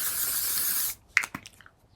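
L'Oreal setting spray is misted onto a face in one steady close hiss lasting almost a second, followed by a few soft clicks and small handling noises.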